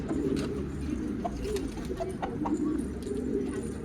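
Steady low cooing from several pigeons fills the space, a continuous murmur with occasional faint clicks and flutters over it.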